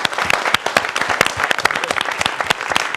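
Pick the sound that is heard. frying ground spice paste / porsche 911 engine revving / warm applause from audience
warm applause from audience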